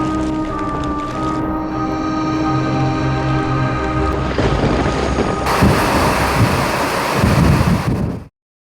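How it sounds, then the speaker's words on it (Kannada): Heavy rain pours down steadily near an elephant area, growing louder and denser toward the end, with low rumbling that may be thunder beneath the constant wash of water. "ಮಳೆ ಬೀಳ್ತು"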